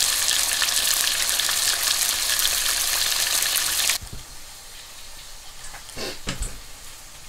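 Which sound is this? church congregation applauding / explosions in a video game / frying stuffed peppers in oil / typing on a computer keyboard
frying stuffed peppers in oil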